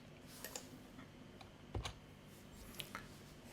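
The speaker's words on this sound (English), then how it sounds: "That's not good typing." Typing on a computer keyboard: scattered, fairly quiet key clicks in irregular bursts, with a couple of heavier keystrokes, close by in a quiet room with no talking.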